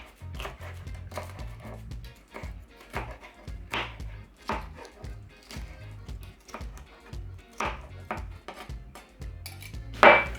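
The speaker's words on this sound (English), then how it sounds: "I'm gonna show you the way to cut up pepper that you don't get it in your eyes" A knife chops hot peppers on a cutting board for spicy Jamaican pepper shrimp, with a steady run of close knocks and scrapes, the clatter of dishes and utensils, and no talking.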